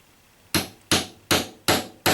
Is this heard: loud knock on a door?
no